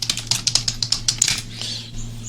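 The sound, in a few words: typing a command on a computer keyboard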